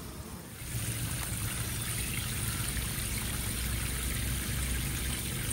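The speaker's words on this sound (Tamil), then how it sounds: "செடிக்கெல்லாம் தண்ணி ஊற்றிட்டு" A steady stream of water splashes and patters continuously onto garden plants after a brief quieter start, close and fairly loud, with no voices.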